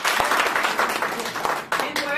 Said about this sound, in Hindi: ताली बजाओ आप लोगों को।